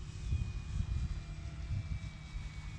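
Steady, low droning engine and propeller noise inside a Cirrus SR22T light aircraft in flight at about half throttle, a continuous rumble with a faint high whine and no talking.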